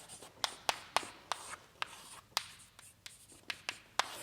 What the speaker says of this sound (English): Let me just write it like this.